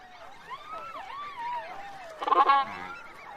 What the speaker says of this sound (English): Flocks of Styginetta, a primitive relative of ducks, stop here on their travels.